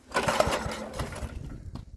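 A Troy-Bilt rototiller's small engine runs after a shot of ether. It puts out a rough, uneven, pulsing putter for about two seconds that fades toward the end.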